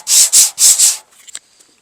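Heavy scratches being sanded out of an F600 pickup truck bed with 80 grit sandpaper: four loud, close, rhythmic rasping strokes, then a few faint scrapes and a light tap as the motion stops.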